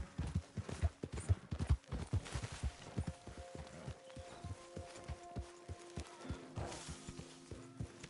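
Steady clip-clop of a horse's hooves walking in the video game Red Dead Redemption 2, a close, rhythmic series of thuds that continues throughout with faint ambient tones behind.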